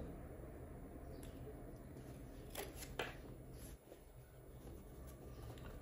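Scissors cut out fabric for a cowgirl fascinator, giving a few faint, soft snips and crisp crunching cuts over a low room hum, quiet and close.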